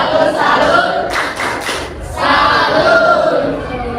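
Schoolchildren in a classroom doing the tepuk salut clapping chant, loud rhythmic group claps with shouted chanting, a short burst of sharp claps in the middle, then more chanting voices.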